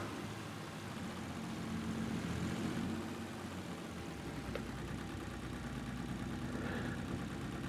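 The AW 4x4 vehicle in Farming Simulator 22 idles on its own with a steady, fairly quiet engine drone that has an older mechanical character.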